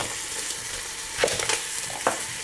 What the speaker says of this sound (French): on fait revenir notre faisan de tous les côtés.